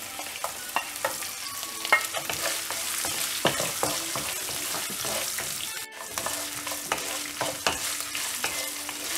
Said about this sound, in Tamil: இதை நல்லா எண்ணெயில் ஃப்ரை பண்ணிடலாம். இஞ்சி ஆட் பண்ணிவிட்ட உடனே தேங்காய் ஆட் பண்ணிடலாம்.